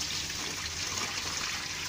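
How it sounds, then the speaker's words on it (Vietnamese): Water poured out of a foam-box fish tank that is filtered with honeycomb charcoal, a continuous splashing rush that stays steady and fairly close the whole time. "Đổ nước ra các bạn,"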